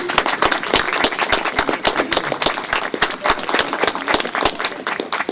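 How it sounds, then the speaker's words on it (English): Applause from a crowd at a sensory trail dedication in Clifton Forge, with dense, steady clapping that carries on without a break and sounds fairly close. "how about a big round of applause for everybody that's had a part in this"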